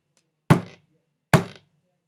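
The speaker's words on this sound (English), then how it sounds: "Then suddenly there was a loud banging at the door." Two heavy, hollow knocks land about a second apart, loud and close, like a fist pounding on a wooden door, with silence around them.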